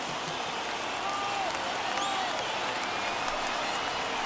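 A stadium crowd of over 39,000 in the MLB The Show 21 baseball video game, Padres versus Dodgers, roars and cheers in a steady, dense wash of noise throughout.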